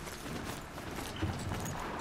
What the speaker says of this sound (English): it even sounds like a real horse, too